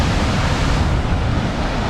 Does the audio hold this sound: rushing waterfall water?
yes